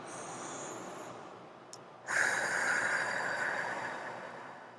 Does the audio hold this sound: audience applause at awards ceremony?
no